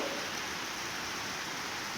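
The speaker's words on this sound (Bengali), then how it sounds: "আজকে সকাল থেকেই উঠে দেখি বৃষ্টি প্রচণ্ড হারে হচ্ছে" Heavy rain pours down as a steady, even roar of hiss, unchanging for the whole stretch.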